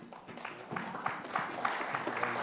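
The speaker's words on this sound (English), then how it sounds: "another round of applause for Plug and Play and for Liz in particular." Audience applause at a business tech-center panel event on broker topics, a fairly soft, brief patter of clapping that swells slightly and continues steadily for a couple of seconds.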